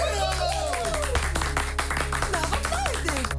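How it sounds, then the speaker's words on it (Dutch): Clapping and applause from a crowd mixed with music and voices, lively and continuous. "Geef een applaus!"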